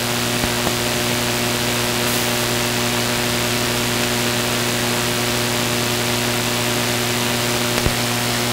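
Race car engines drone in a steady, sustained roar during a USRA heat race of eight cars at Lakeside Speedway, a continuous engine hum with no break.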